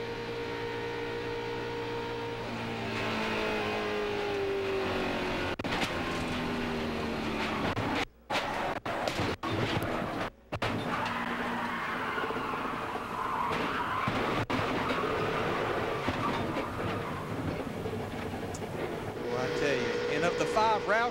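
Onboard with Ricky Rudd's NASCAR race car at Talladega Superspeedway in 2003, a steady engine whine with pack traffic and tire noise, broken by brief dropouts, with commentators speaking over it.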